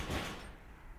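A door closing in the video game Final Fantasy VII Ever Crisis: one quick sliding thud with a brief scrape that fades within a second, fairly close and moderately quiet, no talking.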